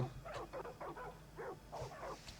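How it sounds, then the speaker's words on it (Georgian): A dog barks and yips several times in quick bursts, with a steady low hum underneath. "ეგე ძაღლი კიდე"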